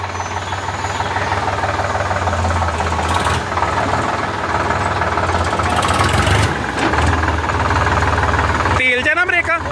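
A tractor engine runs steadily at idle with a low rumbling throb and some knocking, loud and close, until it cuts off near the end and a voice is heard.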